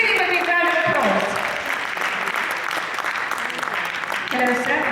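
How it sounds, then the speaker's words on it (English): Audience applause at a painting auction event, a dense burst of steady clapping from a crowd that lasts the full five seconds, with some voices mixed in. "Give him a big round of applause."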